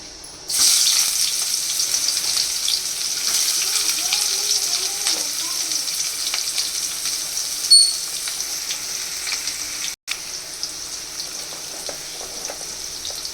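Onion for chutney drops into hot oil in a pan and bursts into a loud, steady crackling sizzle that carries on close by, with a brief clatter partway through.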